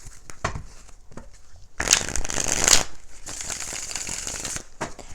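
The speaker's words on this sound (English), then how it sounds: "Let's do one more shuffle." Tarot cards are shuffled in a quick riffle, a crisp burst of flapping that swells loud for a second, surrounded by softer handling taps.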